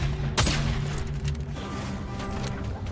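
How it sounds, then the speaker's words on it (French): A single sharp gunshot fired into the air in Fortnite cracks out early, loud and close, over a dense, steady bed of game sound effects and music with no speech. "tire une balle en l'air"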